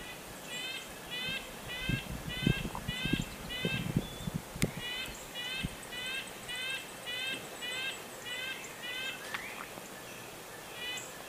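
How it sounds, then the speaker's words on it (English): A small bird gives a rapid series of short, nasal, tinny call notes repeated in a steady rhythm, with faint knocks and rustles below. "that is the red-breasted nuthatch"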